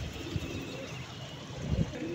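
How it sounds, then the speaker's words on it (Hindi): Pigeons perched on a rooftop give soft, low cooing calls at a moderate distance over faint background noise, with a slightly louder burst of coos near the end. "ये हमारे कबूतर भी बैठे हुए हैं"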